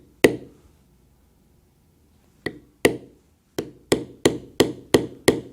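A metal basket-weave embossing stamp is struck lightly on leather with a mallet, producing sharp tapping knocks: one lone strike, a long pause, then a run of about eight evenly spaced taps that quicken toward the end.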